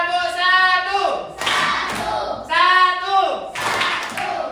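A classroom of students clapping on a teacher's command, with sharp broadband bursts of clapping following spoken counting and instructions from the teacher.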